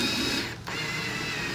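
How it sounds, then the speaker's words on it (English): A drill, not an impact driver, drives a screw into the top of wooden car ramps being turned into a birdhouse, giving a steady close whirring motor that briefly dips midway before running on. "Just a drill."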